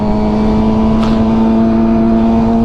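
A motorcycle engine revs hard at full throttle during a power wheelie, a loud, sustained droning roar with a steady pitch throughout the short stretch.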